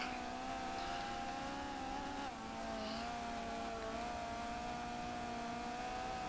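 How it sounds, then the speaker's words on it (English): A Renault Clio race car on track holds a steady, droning engine note with little rise in pitch, heard continuously and fairly faint, without talk. "Just doesn't have the acceleration, this car."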